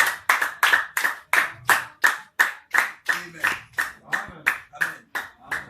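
A congregation claps in praise of the Lord at a church service, about a dozen sharp, evenly spaced claps in a steady rhythm, close and distinct, with faint voices underneath.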